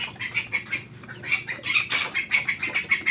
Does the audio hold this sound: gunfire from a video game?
no